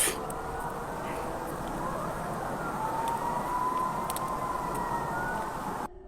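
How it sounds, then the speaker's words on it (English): A siren wails faintly in the distance, rising and falling over a steady rumble of ambient noise, with no voices. "with the howling and sirens in the background, the atmosphere became more unsettling"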